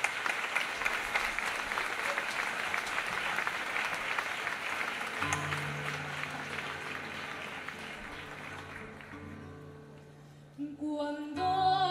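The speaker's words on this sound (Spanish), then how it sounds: "Un aplauso para ella." A crowd at an outdoor live concert in Plaza San Felipe, Zaragoza, applauds a jota singer with sustained, dense clapping that fades as instrumental music starts underneath and carries on alone.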